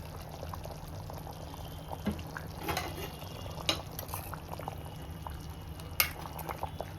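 A spoon stirs green Bombay duck curry in a pot, nearby and fairly quiet, with a few soft clinks and scrapes over a steady simmering bubble, and no talking.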